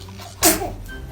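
One sharp, loud sneeze bursts out close by, then fades quickly into quiet room noise.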